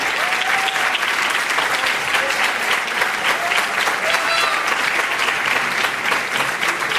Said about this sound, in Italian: Un applauso anche a Michela.